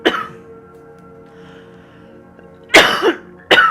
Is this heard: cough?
yes